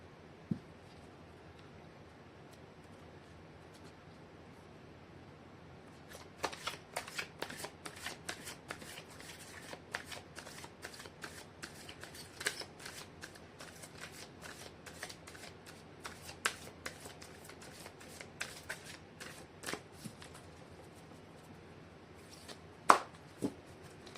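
Oracle cards are shuffled by hand during a tarot reading, a steady run of crisp riffling flicks and soft slaps that start after a quiet stretch and continue, with a louder snap near the end.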